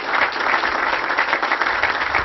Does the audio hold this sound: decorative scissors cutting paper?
no